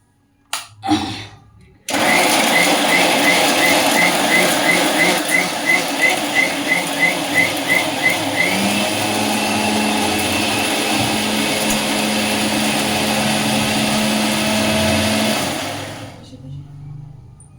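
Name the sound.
electric mixer grinding fish curry spices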